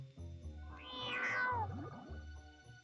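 A kitten meows in the Sega Saturn video game Frankenstein, one drawn-out plaintive mewing cry rising and falling over a low steady game tone, alone and fairly close.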